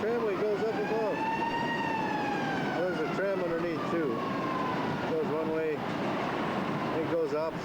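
A siren wails in a long, slowly falling tone, faint and distant, while people talk nearby over a steady background murmur.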